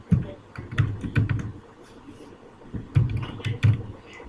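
A database password is typed on a computer keyboard: bursts of close, crisp key clicks in quick uneven runs, with a short pause in the middle before another flurry.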